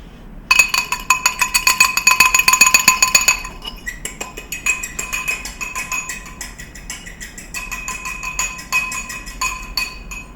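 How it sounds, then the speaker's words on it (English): Fork whisking egg whites in a bowl for homemade oat flour pancakes, fast rapid clinking strokes against the bowl, loud and dense at first, then slightly lighter and steady, close up with no talking. "we're gonna keep whisking our egg whites"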